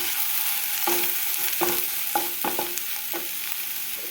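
Cauliflower fried rice with soy sauce is stir-fried in a pan, a loud continuous sizzle punctuated by a series of clinking spatula strikes and scrapes against the metal, close up, with no voices.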